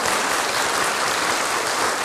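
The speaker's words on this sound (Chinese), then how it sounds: "让我们用热烈掌声欢迎钟博士的莅临" A crowd at a book launch and Buddhist forum claps warmly to welcome a guest speaker, producing a short burst of dense, even applause that fills the room without pause.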